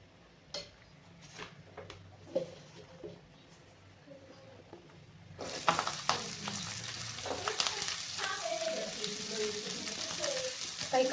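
Spices for misal hit hot oil in a pan: a few quiet ticks and stirring noises, then a sudden loud, steady sizzle that keeps going up close.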